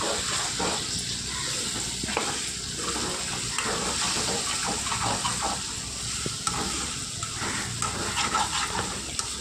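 Potato curry sizzles steadily in a pan while a spatula stirs and scrapes it at intervals, close up and continuous, with no voices.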